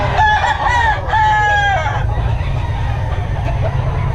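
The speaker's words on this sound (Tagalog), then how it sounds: "Maraming manok ngayon, mga kabiyahe." A rooster crows loudly twice in close succession, each call long and drawn out, over a steady low rumble of background noise.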